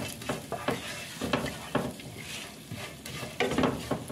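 Dried shrimp go into a hot pot in a home kitchen and are stirred, giving soft continuous sizzling with repeated scraping strokes of a utensil at close range.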